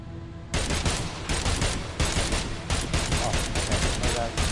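Heavy gunfire in Agents of Mayhem erupts suddenly after a quiet moment and keeps pounding in loud, overlapping volleys, a sustained barrage of rapid shots with faint voice underneath.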